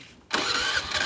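A motorbike engine catches after a brief crank and settles straight into a steady, close idle.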